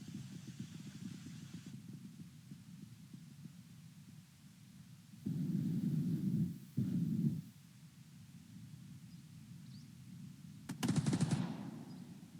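Machine gun fire in the WWII strategy video game Second Front at Stalingrad: a low, faint rattling hum throughout, with louder bursts about midway and a short sharp burst near the end.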